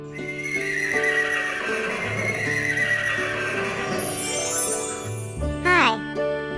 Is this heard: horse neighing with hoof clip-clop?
yes